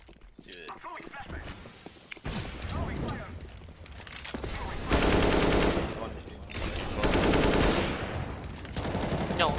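Sustained automatic AK rifle fire from Counter-Strike on the Mirage map, loud rapid bursts that swell into long dense volleys, mixed with game effects and voices talking throughout.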